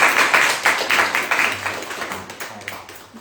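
A small audience at a homebuying seminar claps, close scattered handclaps that start loud and gradually thin out over a few seconds, with faint voices in the room.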